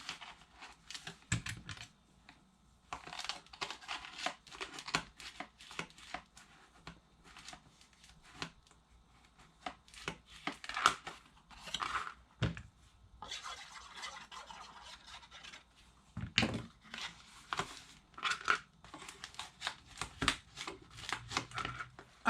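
Paper box flaps being glued and folded in by hand for a mini spa bath set, heard as soft, close crinkling, tapping and rubbing of paper in irregular bursts, quiet and with no voices.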